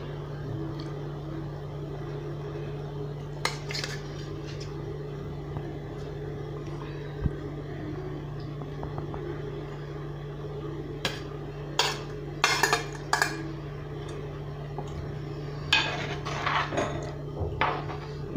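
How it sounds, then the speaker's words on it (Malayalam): Pieces of river fish going into bubbling curry paste in a pot for a Kerala-style fish curry with kudampuli, giving scattered clinks and soft knocks over a steady low hum, with no talking. "ഇതിലേക്ക് നമുക്ക് മീൻ കഷ്ണം ഇട്ട് കൊടുക്കാം."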